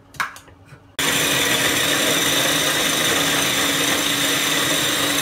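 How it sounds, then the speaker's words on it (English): Kitchen blender whirring loud and steady as it blends jerk chicken marinade, starting abruptly after a second of faint handling clatter and running continuously to the end. "Good old blender."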